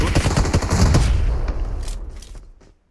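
Rapid automatic gunfire in the video game PUBG crackles in a dense, loud burst of repeated shots that fades out over about two seconds.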